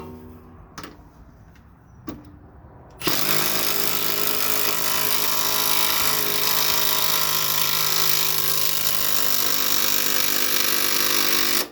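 A rivet nut being tightened into a hole in a car fender liner: a few faint knocks, then a loud continuous power-tool whir running steadily for about nine seconds before stopping abruptly.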